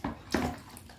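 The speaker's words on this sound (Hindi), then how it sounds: "इसमें पानी डालना है" Water poured from a bucket into a Lifelong foot spa massager, a quiet splash followed by a second brief gush and trickle, close by with no talking.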